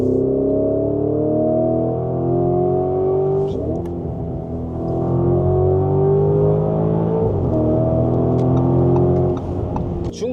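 Lamborghini Urus SE engine droning loudly and steadily close by, with pitch sweeps suggesting revs climbing and shifting, plus occasional clicks over the top.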